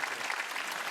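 Church congregation clapping during a worship service, a brief steady burst of many hands heard at moderate, somewhat distant level.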